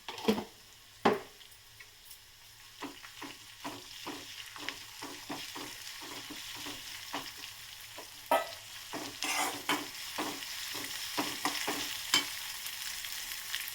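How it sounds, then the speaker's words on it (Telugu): Ginger garlic paste frying in a hot pan and being stirred, with a steady sizzle under repeated scraping strokes of a spoon, some sharper clicks against the pan, and no talking. "కొంచెం అయితే అల్లం వెల్లుల్లి పేస్ట్ వేసేసుకున్నాము"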